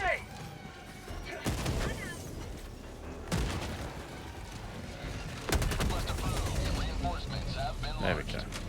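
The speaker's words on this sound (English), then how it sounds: "Throwing grenade." Grenade blasts and gunfire in the Helldivers 2 video game, several sharp broadband bursts at intervals amid continuous battle noise and creature screeches, with a voice talking over the action.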